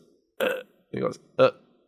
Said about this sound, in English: he knows how to belch on command